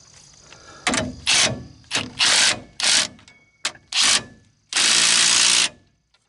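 A ratchet wrench tightens a leaf spring bolt on a 2006 Ford Ranger 3.0, loud close bursts of rapid clicking in short strokes, then one longer run, with no talk.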